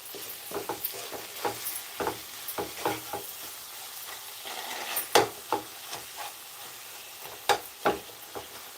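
Fenugreek leaves frying in a pan, a soft hiss punctuated by repeated scraping and tapping from a stirring spoon, irregular and close, with no talking.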